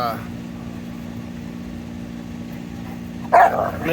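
A dog gives a single short bark near the end, loud and close, following a stretch of low engine-like hum in the background.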